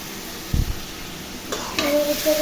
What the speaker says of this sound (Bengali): শুটকিটা ভাজা ভাজা হয়ে আসছে আর সবগুলো চিংড়ি মাছও দিতেছি এখানে